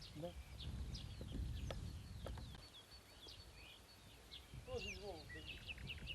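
Chickens cluck and chirp intermittently outdoors, with low rumbling noise in the first half and a clearer burst of calls near the end.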